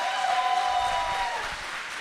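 Crowd applause at a live event, continuous clapping at a steady level with a faint tonal hum running beneath it, slowly easing near the end without any voice on top.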